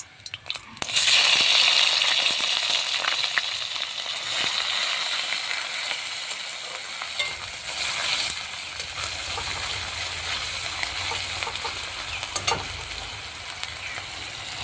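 Ground onion and garlic paste frying in hot oil in a pan, with a loud, bright sizzle that starts abruptly and holds steady, plus occasional stirring scrapes, close up and without speech.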